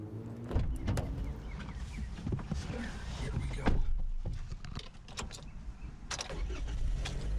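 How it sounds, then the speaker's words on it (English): A car drives on an ordinary road with a quiet, muffled interior hum, punctuated by clicks and thumps, with some talk underneath. "We're just driving like we would normally do"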